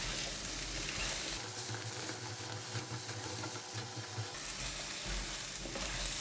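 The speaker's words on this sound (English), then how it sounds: "Stir the loofah and garlic together." Luffa gourd and garlic sizzle in hot oil in a pan, a steady crackling fry with occasional scraping stirs, close and continuous with no speech.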